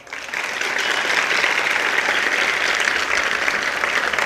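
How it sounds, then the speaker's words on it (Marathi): A large audience bursts into loud, sustained applause at a Marathi motivational speech, dense steady clapping that builds quickly and holds without a break and with no voices over it. "वाजवा एकदा जोरदार टाळ्या वाजवा."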